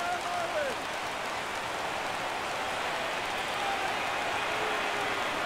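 A stadium crowd in the MLB The Show 17 video game roars in a steady, dense wash of cheering and clapping, constant and fairly loud, with faint commentary underneath.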